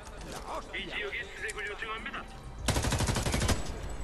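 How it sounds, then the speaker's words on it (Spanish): Machine-gun fire and gunshots from a shootout in the video game Homefront, a loud burst of rapid shots near the end, with someone talking throughout. "Se montó un tiroteo aquí."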